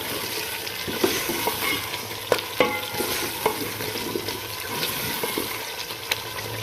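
Tomatoes fry in a garlic, ginger and green chili paste for chicken karahi, giving a steady hiss and sizzle broken by repeated scraping clicks of a spoon stirring the pan, with no voices.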